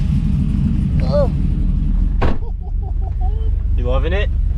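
Subaru BRZ cruising at low revs, a steady deep engine rumble from inside the car with a brief sharp knock and occasional voices talking over it.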